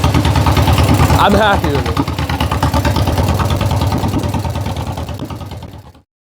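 A John Deere tractor engine runs after a rebuild, a loud, steady rhythmic chugging idle that fades toward the end as someone speaks briefly over it.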